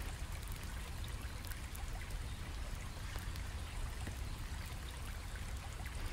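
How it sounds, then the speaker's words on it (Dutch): Rosemary bath shower gel goes into a foot bath, heard as a continuous soft stream of pouring water trickling and splashing at close range, even and unbroken throughout. "Ik voeg wat rozemarijn baddouche toe."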